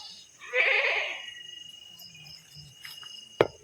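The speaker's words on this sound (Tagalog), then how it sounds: "So may kambing." A single short goat bleat sounds early at an abandoned school, followed by near quiet with faint rustling and a sharp click.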